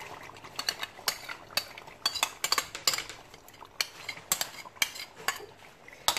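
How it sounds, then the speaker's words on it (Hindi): A metal spoon scrapes and clinks against a pan while stirring and frying yogurt into korma masala, giving irregular sharp taps over a faint sizzle with no talking. "अब हम दही डाल के भून लेते हैं।"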